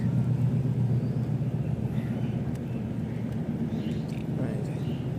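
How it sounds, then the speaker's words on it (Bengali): Nearby trains and road traffic make a steady low rumble throughout at a riverside fishing spot, with a voice speaking over it. "এদিকে রেলের আওয়াজ, গাড়ির আওয়াজ, কত আওয়াজ আজকে।"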